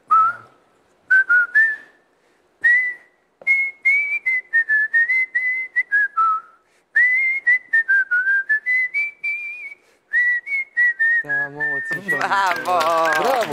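A man whistles the theme music of the Romanian series Pistruiatul on a television word-game show, a clear solo melody in short phrases with brief pauses, closing as a voice speaks over the last notes.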